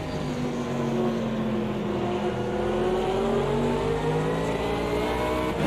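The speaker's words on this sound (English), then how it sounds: "hear the roar of the other engines" Race car engines roar at the Nürburgring Nordschleife in the Automobilista 2 racing game, a loud continuous drone of several cars with rising and falling engine pitch that keeps going for the whole stretch, with no talking.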